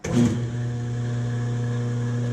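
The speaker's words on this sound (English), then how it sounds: "this phase converter kind of generates the third leg of power for the three-phase power" A rotary phase converter for a milling machine spins up with a brief loud surge, then settles into a steady, loud electrical hum with strong low tones, running continuously with no talk.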